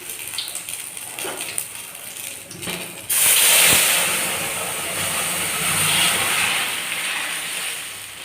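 Curry leaves hit hot dal and set off a sudden loud, bright sizzle that begins after a few quiet seconds and then keeps hissing strongly, fading slightly, with no talking.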